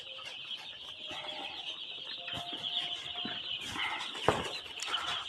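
Three-day-old chicks on a poultry farm keep up a continuous high-pitched chorus of peeping and cheeping, close and moderately loud, with a few nearby clicks and no speech.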